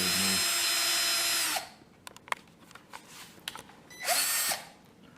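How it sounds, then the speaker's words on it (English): A power drill boring a small pilot hole, likely into wood, runs in a steady loud whine for about a second and a half, stops, then gives a second short burst after a pause filled with small clicks and handling noises. "Just want to get a little pilot hole in"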